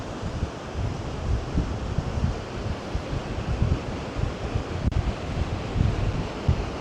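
Strong outdoor wind buffeting the microphone in a steady, loud low rumble with gusty swells during a yoga and Pilates class for surfers, no voices heard.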